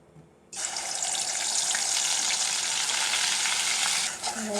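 Ground spice paste drops into hot oil, setting off a sudden loud, close sizzle that holds steady and bright for several seconds before briefly easing near the end, with no speech.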